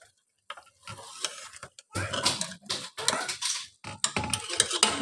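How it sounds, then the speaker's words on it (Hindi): Palak gosht curry with garam masala and dried coriander being stirred and mixed in a pot, a steady run of scraping, clinking spoon-on-metal strokes with a soft sizzle underneath, close and alone. "अब हम करेंगे अच्छी तरह मिक्स।"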